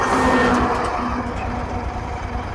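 A Royal Enfield Continental GT650 motorcycle, converted from an Interceptor 650, has its twin-cylinder engine running close by, giving a steady low throb with a humming tone and no speech over it.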